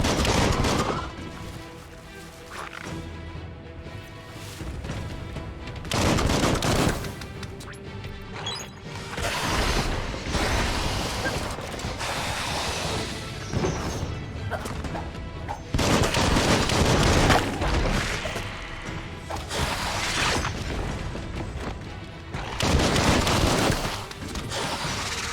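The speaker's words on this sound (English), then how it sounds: "Bullets everywhere." Rapid gunfire with bullets flying in the video game Biomutant, a dense barrage of shots layered over music and crashing impacts, loud and continuous throughout.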